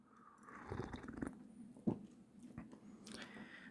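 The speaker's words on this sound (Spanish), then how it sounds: "necesito un sorbito de café" Someone takes a small sip of coffee: quiet, close slurping with a soft swallow and faint mouth sounds, alone and brief.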